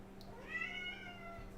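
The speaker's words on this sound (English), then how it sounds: "Meow." A cat lets out a single drawn-out meow at close range, rising and then falling over a low steady electrical hum in an indoor room.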